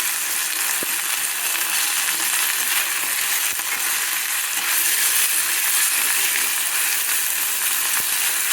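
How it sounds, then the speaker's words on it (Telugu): A thick mixture fries and is stirred in a pan, a dense continuous sizzle close up with faint scraping and a few sharp clicks, and no voices. "మంచిగా ఇట్లా కలుపుతుండాలి."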